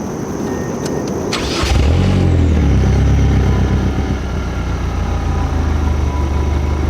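A 2007 Mazdaspeed 6 with catless downpipes cranks briefly and catches, then settles into a steady, close, low idle rumble that continues alone to the end.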